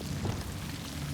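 An Incendio fire spell bursts in Hogwarts Legacy, a short, loud, broad roaring whoosh of flame that fills the brief moment with no voices.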